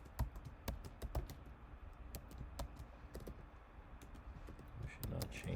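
A computer keyboard is typed on while a password is entered during a software setup, with irregular crisp key clicks spread throughout, a denser flurry near the end, and a voice talking faintly underneath.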